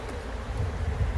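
A short, low buzz from many honeybees around an open hive during a beekeeping inspection. The hum is steady and close, with no talk over it.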